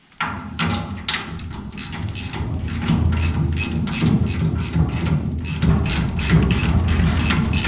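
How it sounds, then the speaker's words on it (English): A ratchet wrench clicks rapidly and repeatedly, close and loud, while unbolting the U-bolts from an M416 trailer axle, with the rhythmic ratcheting continuing throughout. "now I think I'm gonna unbolt the U-bolts"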